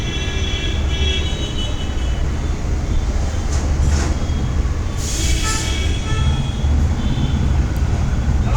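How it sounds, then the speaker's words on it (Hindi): Train in India running on railway tracks, a loud continuous rumble and clatter of wheels heard from on board, with occasional higher squeals and rattles and no talking. "और ट्रेन से जाने का मज़ा ही कुछ और है।"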